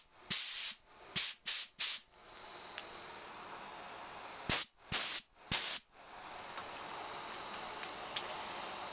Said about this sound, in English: A silent air compressor.